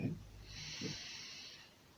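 Someone takes a slow, breathy inhale during a guided breathing exercise, a soft airy hiss that rises near the microphone after a brief low murmur, quiet and unhurried.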